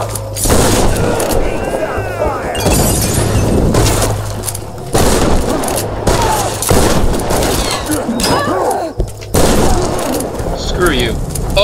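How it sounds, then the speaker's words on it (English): Shotgun loaded with incendiary bolts firing in Tomb Raider, loud repeated booming blasts amid a dense, chaotic game battle with music and effects, while someone talks excitedly over the action. "I forgot I added, incendiary bolts to my shotgun"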